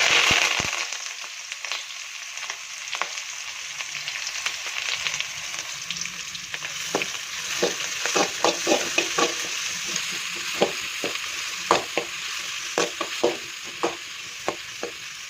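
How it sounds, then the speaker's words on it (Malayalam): Chopped shallots frying in hot oil after mustard seeds, cooking a chana dal curry; a steady close sizzle runs throughout, with stirring scrapes and crackles growing busier toward the end, no voices. "ചുവന്നുള്ളി വാടി വരുന്നുണ്ട്"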